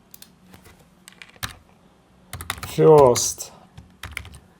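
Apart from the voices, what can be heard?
typing on a computer keyboard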